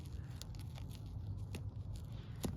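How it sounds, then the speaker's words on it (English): Scissors snip through car seat patch material up close, a series of quiet, sharp clicks and crisp cuts over a low background hum. "I'm just going to use my scissors."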